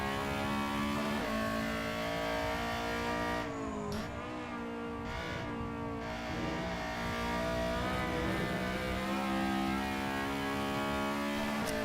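A Honda EG Civic cup race car engine howls steadily at high revs on the Castle Combe circuit, loud and continuous, with brief dips around gear changes and lift-off in a turn before pulling hard again.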